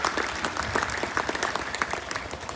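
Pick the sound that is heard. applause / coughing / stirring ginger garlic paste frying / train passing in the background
applause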